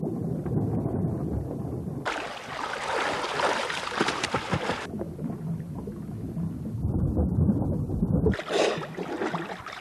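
Water churns and splashes as a hunter rights a capsized kayak with his oar, the sloshing swelling in rough bursts and fading between them against a low background rumble.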